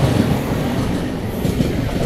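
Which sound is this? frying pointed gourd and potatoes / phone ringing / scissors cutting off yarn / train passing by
train passing by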